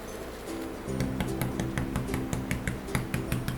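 A stencil brush taps paint rapidly onto a tray painted with tulips, a series of light, dry close taps over a soft steady background hum, with no talk.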